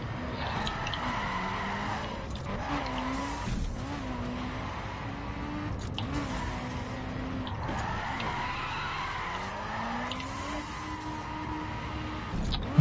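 A car drifts in The Crew video game, its engine whining up and down through gear changes while tires squeal and skid continuously at moderate volume, with no speech.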